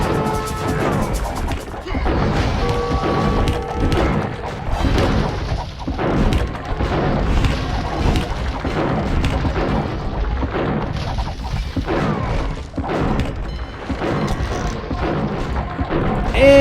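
A wall smashed open in a strategy game battle, with a dense, continuous din of crashes, thuds and booming impacts amid gunfire, loud throughout with a heavier hit at the end.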